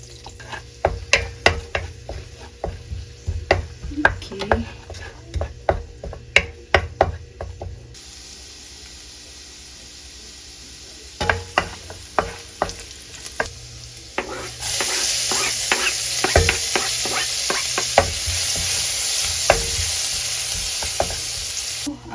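Butter melting in a pan for a home-cooked sanma dish, with a steady sizzle that builds and grows louder midway, broken by frequent clanks and scrapes of stirring utensils against the pan; no one speaks.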